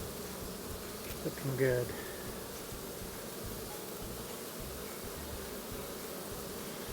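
A dense, steady hum of many Carniolan honeybees buzzing close by in a package cage as they are poured into a hive, with a brief bump of handling noise and a voice speaking briefly.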